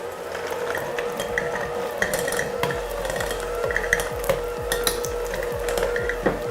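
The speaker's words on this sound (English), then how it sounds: "So make sure you mix it until it's fluffy in the bowl." Room-temperature unsalted butter is mixed in a bowl until fluffy, giving a steady mechanical whir with a rapid, regular rhythmic scraping, close and continuous, without talk.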